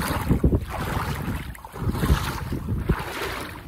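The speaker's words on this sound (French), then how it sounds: "Vous entendez le bruit de l'eau?" Sea water at a beach, with waves washing and splashing in uneven surges over steady wind buffeting the microphone, fairly close and moderately loud, with no talking.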